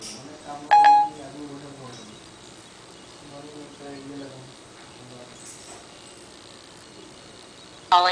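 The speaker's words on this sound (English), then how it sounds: "Calling Lisa S. iPhone" An iPhone running Siri places a call, giving a short electronic tone sequence near the start and another brief tone at the very end, with low voices and background murmur in between.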